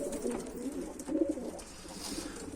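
Turkish tumbler pigeons coo softly nearby, a low, rolling murmur of several birds that swells and fades over a couple of seconds, with no talking.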